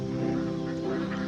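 Ducks at a pond give a brief burst of loud, close, overlapping honking quacks.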